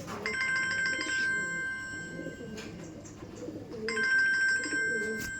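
Low, throaty cooing from Giribaj pigeons, repeated in short bursts, partly overlapped by a bright electronic ringing tone that comes and goes.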